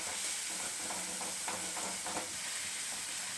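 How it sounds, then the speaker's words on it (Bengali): Ground spice paste stir-fried with browned onions in a pan while cooking a drumstick curry, a steady sizzle and hiss with a few soft scraping stirs, fairly close and without talk. "এবার মশলা দিয়ে আমি খুব ভালো করে কষিয়ে নেব।"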